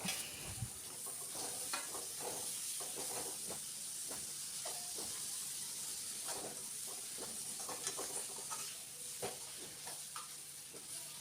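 Tomatoes cooking in oil with masala, together with onions, in a pan, a quiet continuous sizzle and hiss with scattered crackles and small pops, faint throughout, no voices.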